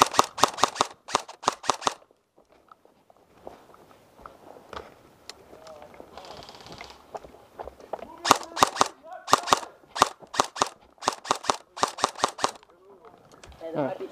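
Airsoft guns fire in rapid bursts of sharp, clicky shots during an outdoor game, several volleys close by, with quieter stretches of shuffling and movement between them.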